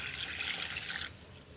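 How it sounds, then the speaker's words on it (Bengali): Water pours into a pot of beef tehari for a second, a loud splashing rush that cuts off abruptly and leaves a quieter background. "পানি ঢেলে দিলাম।"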